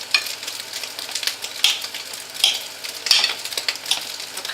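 Minced meat sizzles steadily in a hot pan while being browned and stirred, a dense crackling hiss with occasional louder spits and scraping stirs, close and without talk.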